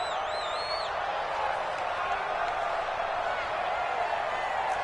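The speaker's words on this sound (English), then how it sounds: "The crowd getting into it as we come up on a big third down." Football stadium crowd roaring steadily ahead of a big third down in an NFC title game between the 49ers and Lions, a dense sustained wall of cheering with a few whistles rising above it near the start.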